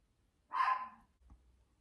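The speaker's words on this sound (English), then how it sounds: "Dogs are barking." A single dog bark sounds once at moderate distance near a 1970s-style house, short and sharp, followed by near silence with a faint low rumble.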